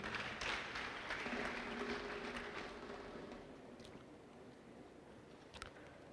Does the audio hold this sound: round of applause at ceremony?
yes